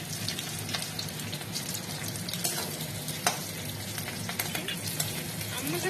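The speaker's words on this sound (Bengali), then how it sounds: "ভাজা হচ্ছে।" Chilli chicken fries in a pan in a home kitchen, a soft continuous sizzle broken by quiet scraping and clinks as it is stirred, low and close with no talk.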